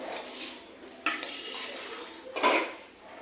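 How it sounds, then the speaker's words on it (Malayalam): A ladle stirs biryani in a metal pot, making a few close scraping and clanking strokes against the pot with a soft rustle of rice between them. "നമ്മൾ ഈ തവി വെച്ചിട്ടാണല്ലോ നമ്മൾ ഇളക്കുന്നത് യോജിപ്പിക്കുക മിക്സ് ചെയ്യുന്നത്"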